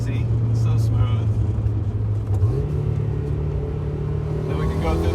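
A car with a rebuilt shifter and brass shifter bushing drives along, its engine droning steadily and then stepping up in pitch midway as it changes gear, with a low road rumble underneath.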